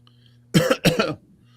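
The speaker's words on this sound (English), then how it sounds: "coughing in disgust" Two harsh coughs in quick succession, close and fairly loud, over a faint steady hum.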